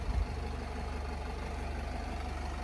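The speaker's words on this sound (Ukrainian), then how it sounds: "Роботу мотора, я думаю, чути" The 2.0-litre Euro 5 diesel engine of a 2014 Nissan Primastar van idles steadily at close range, a low even rumble with a faint rhythmic knock and a brief louder thump at the start.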